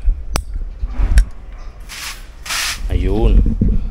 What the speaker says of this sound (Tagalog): adjustan muna natin yung shirit ng tubig